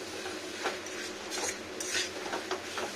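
Cabbage and fish head curry being stirred in a pan, with repeated metal spatula scrapes and clinks against the pan in an uneven rhythm, close and fairly clear, no talking.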